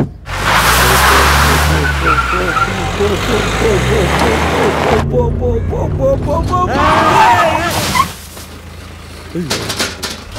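A car accelerates and brakes hard in a movie scene, its loud engine roar and screeching tire skid close and dominant, followed by voices and further movement noise.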